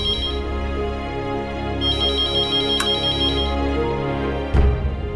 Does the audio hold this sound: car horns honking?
no